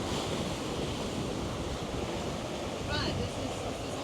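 Strong wind of about 21 knots against the current whips across choppy sea off the Isle of Skye, a dense roaring rush of wind and breaking waves close to the microphone.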